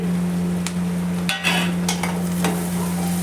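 Chopped bell pepper and onions fry in homemade butter in a pan, with a steady close sizzle and a few stirring scrapes. A low hum runs underneath, and no one speaks.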